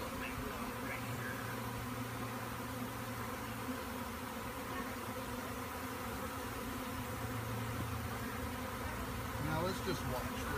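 A swarm of honey bees hums in front of bushes near backyard hives, a dense continuous buzzing that stays steady and close for the whole stretch, with faint voices now and then beneath it.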